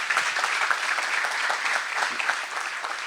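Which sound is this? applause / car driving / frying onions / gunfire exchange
applause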